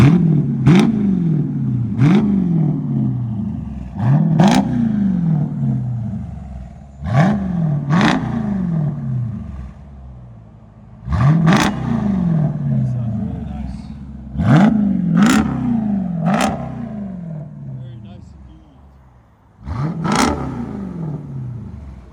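Jeep Grand Cherokee SRT with a 6.4L HEMI V8 and aftermarket exhaust, revved hard in a series of sharp blips that rise and fall back to idle, about eight bursts spaced a second or two apart, loud and close, with people talking between revs.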